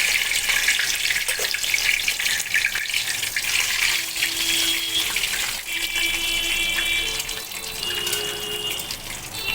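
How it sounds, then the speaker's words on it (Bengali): Cumin, cloves, cinnamon, cardamom and bay leaves sizzling in hot ghee, a steady bright crackling hiss with faint clinks and scraping throughout, no talk. "ঘিটা গরম হয়ে গেছে, আমি এখানে ফোড়ন দিচ্ছি সাজিরা, লবঙ্গ, দারচিনি এবং ছোটো এলাচ, আর দিয়ে দিচ্ছি 2টো তেজপাতা।"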